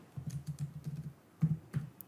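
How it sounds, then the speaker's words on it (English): Keys on a computer keyboard are typed in a quick run followed by a short pause and a few separate presses, close and soft with no talking. "first type pabbly.com in your browser"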